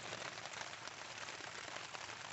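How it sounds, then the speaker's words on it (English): Rain falls steadily on a tarp at a nearly empty campground on a cold, rainy day, water pattering and running off in a continuous close wash with no talk. "Look at all that water running off of the tarp there."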